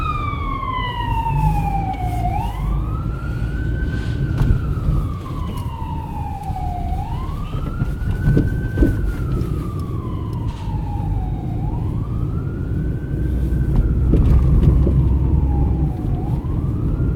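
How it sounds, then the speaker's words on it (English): Ambulance siren wailing outside in a steady rise-and-fall pattern, repeating several cycles at a constant, fairly close distance over a low traffic rumble. "the use of the ambulance out there."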